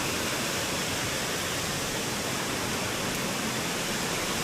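Daranak Falls in the rainy season, a strong waterfall pouring with heavy force, fills the air with a dense, steady, close roar that holds unbroken throughout with no voices.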